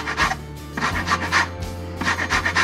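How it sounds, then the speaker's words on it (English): A rasp grater scraping lemon rind in a home kitchen, three bursts of short rhythmic rubbing strokes, close and clear, with no talk. "Love my rasp grater."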